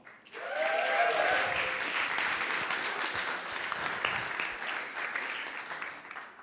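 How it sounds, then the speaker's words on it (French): An audience at a Le Wagon coding bootcamp demo day in Paris applauds a student project, with sustained clapping that swells quickly and holds steady, dense and fairly loud throughout, plus a brief whoop or cheer near the start. "on applaudit le projet Kabuddy"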